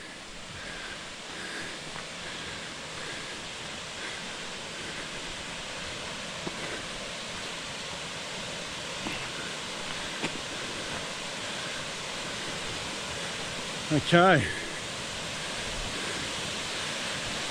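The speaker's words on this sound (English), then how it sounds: "there's a great amount of water coming over, which is awesome to see" Bluff Falls in Burrowa Pine Mountain National Park, heavy flow of water pouring over, a steady broad roar that fills the scene throughout, with a brief voice and a short bump near the end.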